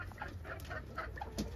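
Buff hens and a Ceylon F1 rooster from a Bengal hybrid breeding flock cluck softly in a low, steady run of calls, fairly faint over a constant background hum.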